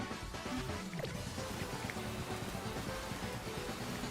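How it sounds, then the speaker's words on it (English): Rain falling in a Pokémon video game, a steady, dense patter of drops with a soft hiss, evenly spread and moderately quiet throughout with no voices. "Okay, well, it is still raining."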